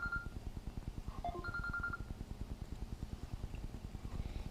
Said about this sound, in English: My phone always ring every time I motovlog.